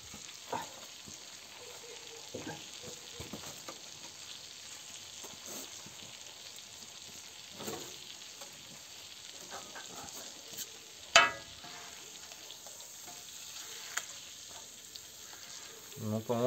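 Chicken tabaka fries on a sadj over a campfire, giving a steady close sizzle with scattered crackles and pops and a sharper spatter burst near the end.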